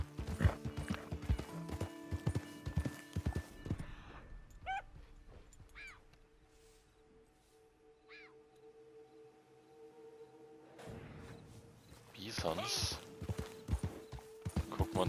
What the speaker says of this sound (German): Wir können auch hier so ein bisschen durch die Prärie reiten.